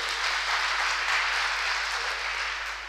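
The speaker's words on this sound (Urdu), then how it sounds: "ایک مرتبہ زوردار تالی آپ بجا دیجئے" Seminar audience at Lucknow University breaking into loud applause, a dense, even burst of many hands clapping at once that stays strong before easing slightly at the end.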